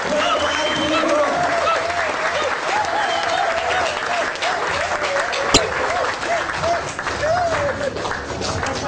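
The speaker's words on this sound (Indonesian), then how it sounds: "Kita sambut dengan tepuk tangan yang meriah Bapak Insinyur Ardi Nugroho." An audience at an indoor event applauds loudly and continuously, dense clapping filling the whole stretch, with a voice speaking over it and one sharp thump partway through.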